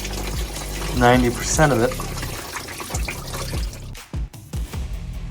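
Coolant drains and splashes from a 2000 Ford F350 during a flush, a close gurgling pour with irregular splatter, heard under a man's speech.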